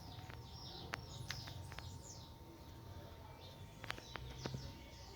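Wild birds at a feeder give scattered short chirps and tweets, some near and some farther off, over a faint steady outdoor background with no talking.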